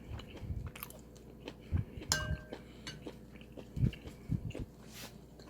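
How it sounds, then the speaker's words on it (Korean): Close chewing of beef from Peacock spicy yukgaejang soup, soft wet bites and mastication in irregular bursts with faint clinks of cutlery, and no talking. "고기 한번 먹어보겠습니다"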